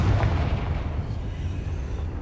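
A Confringo spell explosion in the video game Hogwarts Legacy hits as a loud, dense burst that rumbles on and slowly fades over a couple of seconds.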